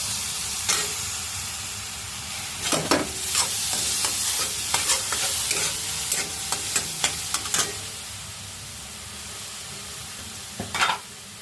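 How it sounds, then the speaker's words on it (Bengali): Black cumin seeds and green chilies frying in hot oil for a beetroot bharta, a continuous close hiss of sizzling broken by sharp crackles and pops as the spices spit. "এই যে কালো জিরাটা ফুটতে শুরু করছে, তার মানে এটা গরম হয়ে গেছে"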